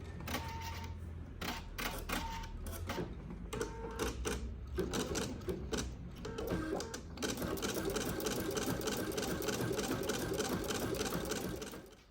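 An embroidery machine stitching fringe embroidery close by, with irregular mechanical clatter that settles into a fast, steady stitching rhythm.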